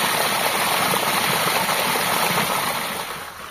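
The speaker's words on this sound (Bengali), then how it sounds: "ঝর্ণার আওয়াজ শুনতে পাচ্ছি।" Ghageswari waterfall in the Ayodhya hills of Purulia, heard as a broad, steady roar of rushing water that fades slightly at the end, with no voices.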